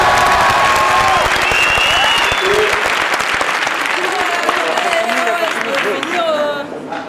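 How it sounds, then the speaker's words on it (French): Crowd at a general strike meeting breaking into loud, sustained applause with some cheering and chatter, steady and close for several seconds before tapering slightly as voices rise through it. "Je me suis fait couper par des staliniens qui applaudissent là"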